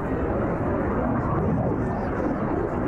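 An F-86 Sabre jet fighter flies an airshow demonstration at March ARB Airfest 2010, its engine a steady, broad roar held at a constant level throughout.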